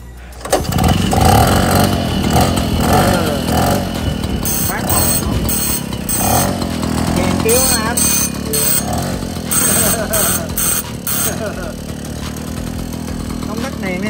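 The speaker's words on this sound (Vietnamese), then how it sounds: "Anh có thể cho nổ máy cho em nghe không?" An old Vietnamese motorcycle, about 40 years old, starts and runs close by, its engine loud and sustained with a rough idle and revving, while people talk over it.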